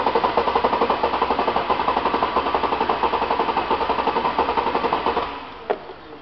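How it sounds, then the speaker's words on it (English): A car engine cranks over on the starter during a relative compression test with an amp probe clamped around the battery cable, giving a steady rapid pulsing rhythm for about five seconds before stopping abruptly, followed by a brief click. "then we'll go to crank our engine and see what happens here on the scanner"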